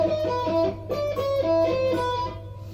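A six-string electric guitar picks a quick riff, a short run of bright ringing notes close up, with no talking.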